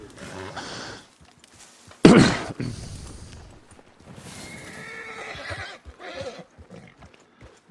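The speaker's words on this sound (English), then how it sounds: "So that's why I'm just gonna leave my horse here." A horse in a video game whinnies loudly once, with hoof clops and a snort around it and quieter stretches between.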